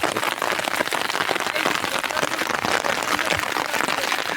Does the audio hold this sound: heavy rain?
yes